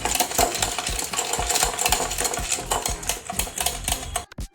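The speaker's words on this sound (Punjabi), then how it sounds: "ਹੁਣ ਆਪਾਂ ਪਾ ਦਵਾਂਗੇ ਆਈਸ ਕਿਊਬ ਤੇ ਇਹ ਮਿਕਸ ਕਰ ਦਵਾਂਗੇ" Ice cubes clink and rattle as they are stirred into homemade mango crush juice in a glass, a dense, steady run of small close-up knocks and taps with no talking.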